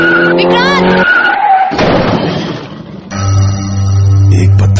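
A motorcycle skids on a stone and crashes into a truck: a sharp tire screech and engine whine, then a harsh noisy impact, followed by sustained tonal sounds, with a voice briefly present.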